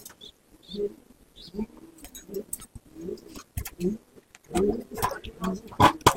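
Racing homer pigeons in a rooftop loft in Kolkata coo softly in short bursts, with occasional wing flutters and chirps, under frequent nearby talk.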